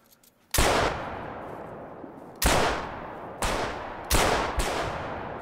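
Four loud rifle shots in the hunting game theHunter: Call of the Wild, each a sharp crack with a long rolling echo, spaced irregularly about one to two seconds apart.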